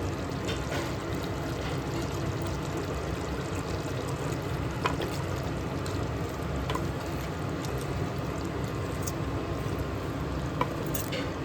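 Prepared paste goes into a hot clay pot for chicken matka dum biryani, giving a continuous dense sizzle with faint stirring clicks throughout, no talking.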